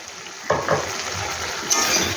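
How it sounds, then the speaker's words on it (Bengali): Kangla fish curry stir-fried in hot oil, a steady close sizzle with a few sharper scraping stirs of the spatula against the pan, no voices. "এবার আমি একটু ভালো মতন কষিয়ে নেব"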